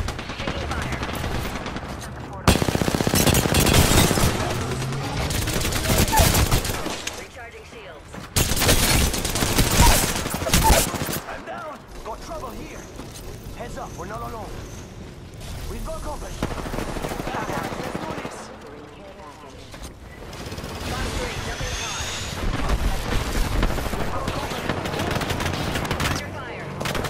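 Bursts of rapid gunfire in Apex Legends erupt in loud clusters separated by short lulls, with voices talking between and under the shooting.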